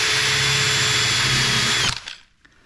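Power drill boring hinge holes into a kitchen cabinet door, a loud close whine that holds steady for about two seconds and then cuts off as the bit stops at depth.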